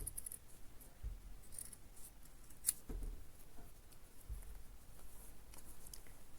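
Scissors cutting dress fabric during a dress alteration, heard as a few soft, scattered snips and light rubbing against a quiet background.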